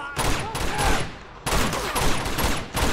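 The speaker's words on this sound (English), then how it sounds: "I'll just use this giant Gatling gun." A heavy Gatling gun in Uncharted 2: Among Thieves unleashes two sustained bursts of rapid, dense fire, loud and close, split by a short pause.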